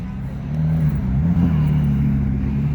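A Ferrari 458 at an evening car show at an A&W lot gives a loud, steady engine rumble that swells slightly and holds close by, with faint voices in the background.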